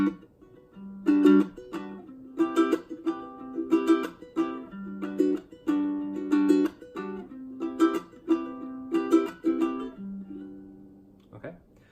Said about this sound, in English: this is a common strumming pattern that's used in reggae and Hawaiian music